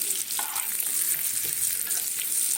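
Omelette curry seasoned with turmeric and Kashmiri chili powder being stirred in a pan: a steady oily sizzle with a few soft scrapes across a short stretch, close and fairly loud, no voices.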